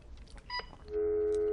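A steady telephone dial tone from a Tempo Nautilus telephone test set comes on after a short burst of beeps and holds, clear and unbroken.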